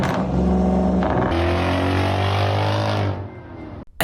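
A sports car with a custom exhaust revs hard. The raw, loud engine roar climbs in pitch, holds high for a couple of seconds, then drops away, with a brief clatter at the end.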